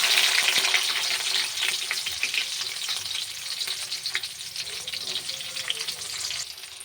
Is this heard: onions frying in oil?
yes